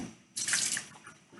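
A short burst of running water rinses out a can at a kitchen sink, starting abruptly, splashing for under half a second, then trickling off quietly.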